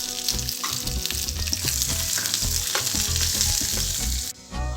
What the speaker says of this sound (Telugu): ఎండుమిర్చి ఫ్రై అయిన తర్వాత కొబ్బరి ఫ్రై అయిన తర్వాత టమాటో ముక్కలు వేసుకోవాలి